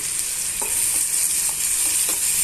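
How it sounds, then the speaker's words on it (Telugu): Chopped onions and green chillies fry in a pan for an egg curry, giving a constant close sizzle with a few soft stirring knocks spaced through it. "ఉల్లిపాయ ముక్కలు పచ్చిమిరపకాయ ముక్కల్ని బాగా వేయించేస్తున్నాము"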